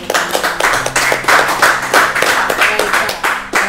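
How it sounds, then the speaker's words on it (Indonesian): Audience applause during a casual interview with an army colonel in Ambon, Maluku: a few seconds of loud, dense clapping from a group over a low background hum. "Kita berikan tepuk tangan"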